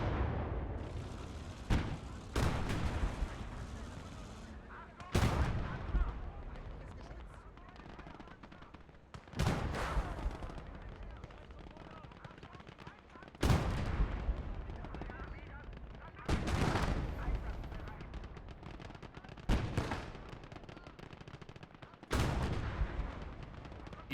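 Heavy cannon fire from a German Panther tank in a World War II tank game, set in Normandy, with repeated loud booming shots every few seconds, each followed by rumbling decay, and faint voices underneath.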